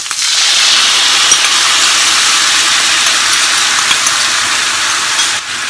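Konnyaku frying in a pan gives off a loud, steady, hissing sizzle that stays close and even throughout, with no voices.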